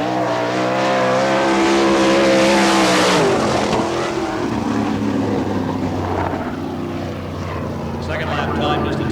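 An All Star Circuit of Champions sprint car on the Barberville, Florida dirt track roars loudly at full throttle through a timed lap, pitch sweeping down as it passes, then a steady engine drone trails off.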